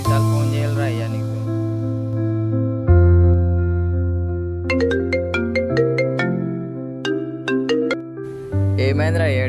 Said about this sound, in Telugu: ఎన్నిసార్లు ఫోన్ చేయాలరా అయ్యా నీకు?